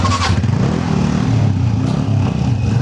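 Motorcycle engine running loud and close, a rough, steady revving drone with pulsing throb throughout, no voices.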